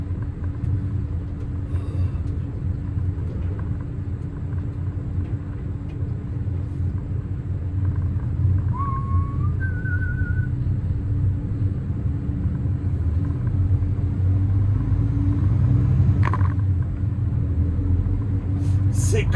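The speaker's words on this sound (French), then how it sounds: "C'est quand même satisfaisant de conduire un camion" A truck driven on a dry, freezing winter road of around minus six degrees, its engine giving a steady low rumble that holds at even loudness throughout, with no talking.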